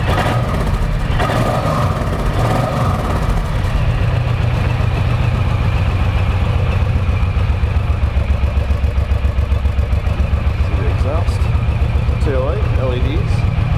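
A 2008 Suzuki C109R motorcycle with its stock exhaust pipe idles in a steady, low rumbling throb, while someone talks over it throughout.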